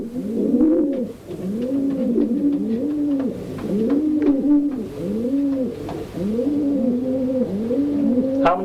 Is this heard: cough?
no